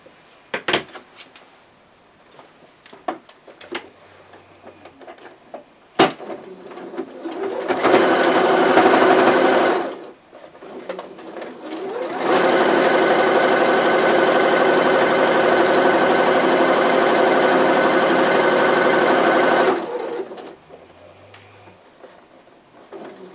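A sewing machine stitching the hemline of a pillowcase baby dress runs in two steady bursts, a short one and then a longer sustained run, close and loud, with quiet handling sounds between them.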